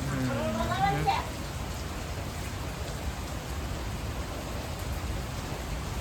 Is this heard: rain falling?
yes